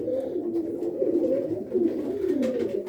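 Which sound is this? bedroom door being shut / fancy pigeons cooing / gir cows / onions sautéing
fancy pigeons cooing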